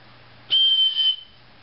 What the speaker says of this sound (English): That's the emergency whistle.